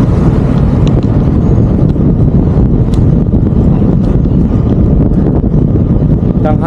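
Steady, loud wind buffeting the microphone while riding at midday on a cool, breezy day, a continuous low roar filling the whole stretch with no voices.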